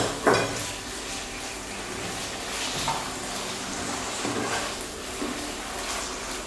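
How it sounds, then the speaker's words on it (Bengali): Chicken stirred in a pan while it fries, a steady soft sizzle with occasional spoon clinks and scrapes against the pan at close range. "চিকেনটাকে আমি ভালোভাবে নেড়ে নিচ্ছি।"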